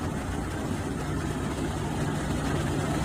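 A 2023 Kenworth T680 truck with a Cummins X15 500 horsepower diesel engine idles with a steady, loud, low rumble that holds even throughout, close up and with no talking.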